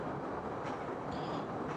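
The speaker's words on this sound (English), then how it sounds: "I felt the foreshadowing rumble of a train" Low continuous rumble of an approaching train at a station platform, steady and fairly loud, with no voices.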